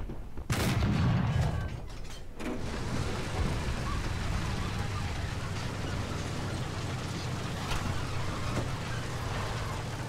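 Cannon blasts from a T-34-85 tank in a World War II tank video game, with a loud sharp boom near the start followed by a sustained rumbling battle din of engine and distant gunfire.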